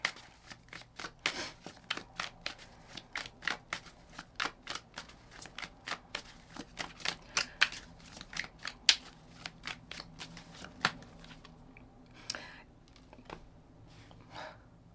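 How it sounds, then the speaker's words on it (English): A deck of journal prompt cards is shuffled over and over, giving a long run of close, crisp riffling flutters in a steady rhythm. A few softer card handling sounds come near the end, and no one speaks. "Let's get some journal prompts for you from my journal prompt deck."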